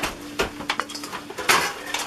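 Lard being worked into mashed potato for Chilote chochoca dough in a home kitchen, giving soft repeated scraping and clinking of a utensil against a bowl, fairly close with uneven bursts.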